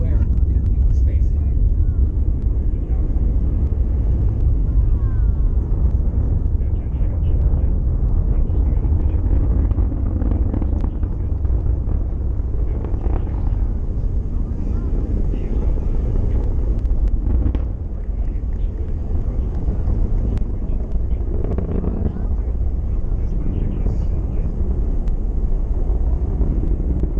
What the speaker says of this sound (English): 7, 6, 5, 4, 3, 2, 1, and lift off. The rise of Starliner.